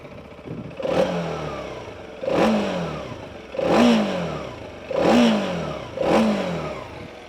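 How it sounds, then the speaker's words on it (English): TVS RTX 300 motorcycle engine revved five times in steady succession, each blip rising sharply and falling away, with a clear intake and exhaust note close by and no talking. "It has a nice intake sound, it's a nice sounding exhaust"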